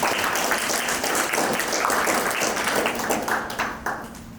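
An audience at a client care program event claps in a moderate, continuous round of applause that carries on for several seconds before thinning out.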